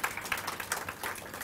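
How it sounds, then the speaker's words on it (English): Steady applause from a crowd, continuous clapping with no one speaking. "Please have a big round of applause for her."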